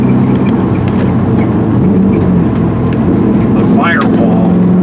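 A Porsche 944 with a swapped-in LS V8 drives along, its engine a steady loud drone with road and wind noise throughout.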